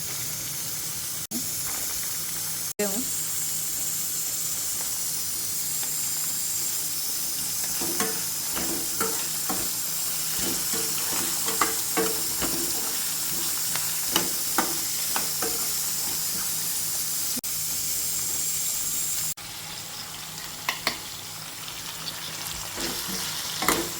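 Potato, ginger and green chilies fry in oil for rava upma, giving a steady close sizzle with scattered crackles and pops throughout, a brief clatter near the start, no talking.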